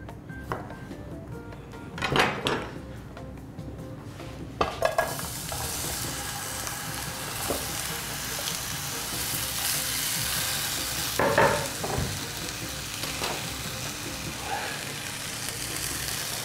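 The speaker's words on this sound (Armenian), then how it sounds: "Տապակում ենք այնքան, մինչև թեթևակի կեղև կապի։" Chopped potatoes frying in a pan until lightly crusted, a continuous close sizzle with occasional clatters and scrapes of stirring and pan handling.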